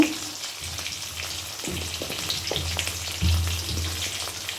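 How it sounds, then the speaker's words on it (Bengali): Panch phoron spices, tomato, ginger and green chili frying in hot oil in a home kitchen, a steady close sizzle with occasional stirring scrapes and bumps. "এখানে এখন তেলের মধ্যে একটু পাঁচ ফোড়ন দেবো"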